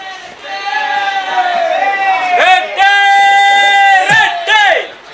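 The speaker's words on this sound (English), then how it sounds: "Reddy gets the biggest cheer" Local crowd at a cricket match in a Siemens premier league, loud sustained cheering and shouting with strong tonal, horn-like whoops rising in bursts.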